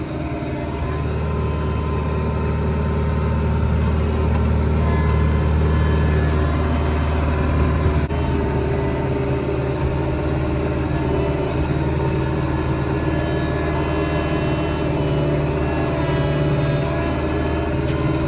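Steady engine rumble of a farm vehicle driving along, a continuous mid-level drone that holds for the whole stretch with no speech.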